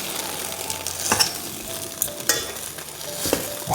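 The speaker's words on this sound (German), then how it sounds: "Das brät in der Zeit direkt noch ein bisschen weiter." Bite-sized Kaiserschmarrn pieces, turning crisp, fry in a pan with a steady close sizzle, broken by a few sharp scraping clicks of a utensil against the pan.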